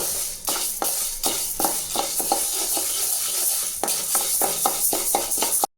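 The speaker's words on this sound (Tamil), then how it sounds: "கருப்பு உளுந்து 250 கிராம், இதையும் வறுத்து எடுத்துக்கலாம்." Black urad dal dry roasting in a pan while being stirred, a steady close scraping rustle of grains shifting against metal with repeated stroke-like bursts, alone with no voices.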